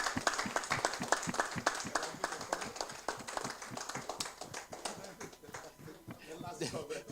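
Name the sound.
conference audience giving a loud round of applause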